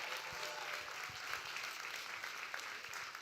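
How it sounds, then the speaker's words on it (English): An audience at a college esports championship finals gives a steady round of applause for the Messiah University team, even and sustained with no talk over it. "Another round of applause for Messiah University."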